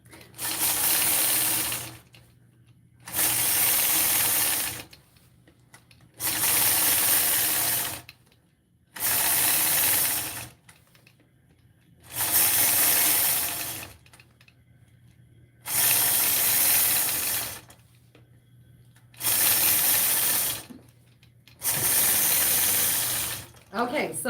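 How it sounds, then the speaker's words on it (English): A sewing machine stitches in repeated bursts of fast, steady mechanical whirring during ruler quilting, each burst a few seconds long and separated by short quiet pauses, close and loud. "I've stitched right back to where I began quilting."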